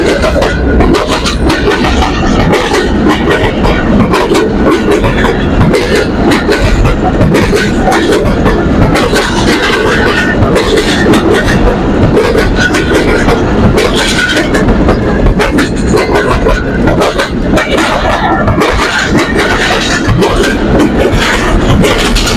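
A train rolls past a level crossing at Lundo railway station, a loud, steady clatter of wagons and wheels that fills the whole stretch without a break.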